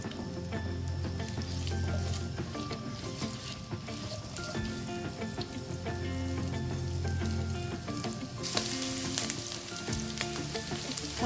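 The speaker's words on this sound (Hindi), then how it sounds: "इसमें तकरीबन 100 ग्राम मैं इसमें डाल रही हूँ चिकन, बॉइल्ड चिकन है ये। इसको हल्का सा सौते करेंगे" Boiled chicken sautéing in a pan for restaurant-style chicken fried rice, a steady close sizzle and frying hiss with occasional stirring scrapes throughout, growing brighter near the end.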